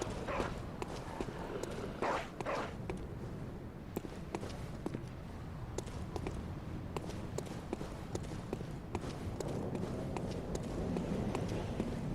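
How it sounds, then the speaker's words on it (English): Hostile dogs rush and attack in the video game Bloodborne, heard as quick patter and scrabbling under a dense, noisy game soundscape with steady background ambience throughout. "Dogs are dangerous in these games."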